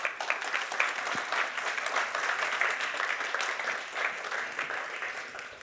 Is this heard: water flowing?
no